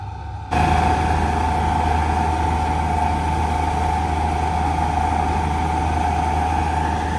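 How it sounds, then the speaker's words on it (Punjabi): After a brief lower hum, a machine engine kicks in and runs steadily, a loud droning rumble with a constant tone that continues to the end. "ਮਸ਼ੀਨ ਚੱਲ ਪਈ ਮਹਾਰਾਜ ਦੀ ਕਿਰਪਾ ਨਾਲ"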